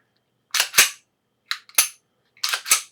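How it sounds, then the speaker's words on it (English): An unloaded Kahr CW9 pistol is dry-fired on a tabletop, producing three pairs of sharp, close metallic clicks separated by short silences. "Of course, still unloaded, dry fired."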